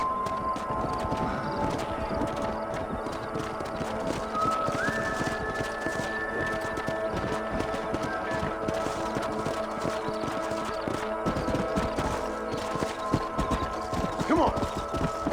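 Horses clip-clopping in the Western video game Red Dead Redemption, a steady rhythm of hooves running continuously under a busy game soundscape, with faint tonal sounds mixed in.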